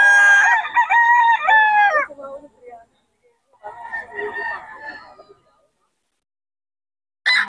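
A Gold Sweater bloodline gamefowl rooster crows loudly and close for about two seconds, then gives a second, rougher crow partway through, with a short sharp sound at the very end.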